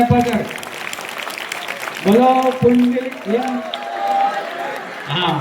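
An audience at a village public awareness gathering claps, a steady wash of applause running beneath someone speaking loudly over it.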